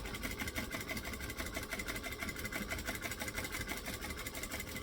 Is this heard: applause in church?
no